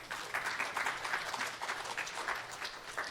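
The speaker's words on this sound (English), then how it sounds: "Can we all just have a quick round of applause for that?" An audience at a talk on family engagement gives a brief round of applause, a steady patter of many hands clapping at moderate distance with no one speaking over it.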